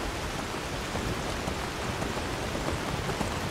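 A continuous wash of rainfall in modded Skyrim, soft drops pattering evenly on surfaces without pause or speech.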